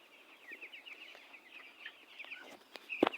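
Chickens cluck steadily in a poultry shed, soft and continuous at a moderate distance, with a louder close burst of clucking near the end.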